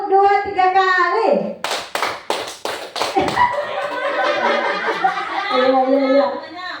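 Several sharp group claps ring out in a quick rhythmic burst as a class of children follows a clapping count, surrounded by children's voices speaking and chanting before and after.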